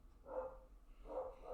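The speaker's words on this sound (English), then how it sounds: "What are my dogs barking at?" A pair of dogs barking indoors, two short separate bursts of barks, faint and somewhat distant, with no talk over them.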